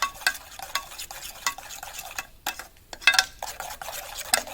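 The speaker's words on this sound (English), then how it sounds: "Stir it up, let it melt." Butter spread melting in a pan and being stirred, with repeated scraping strokes of a utensil against the pan and a light sizzle underneath, close and uneven in rhythm.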